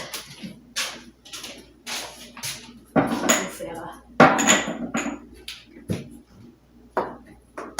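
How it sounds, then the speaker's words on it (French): Dishes, pots and cutlery being washed in a home kitchen after cooking, a string of irregular clinks, clatters and knocks from handled crockery and metal, near and moderately loud, some sharp impacts between quieter rummaging. "Après, c'est la vaisselle."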